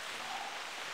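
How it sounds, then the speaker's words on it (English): Rain falls in the hunting game theHunter, a steady, soft, even hiss of drops on the surroundings, faint and continuous with no other sounds. "a lot of people don't care for the rain when they're hunting, but actually the rain is to our advantage"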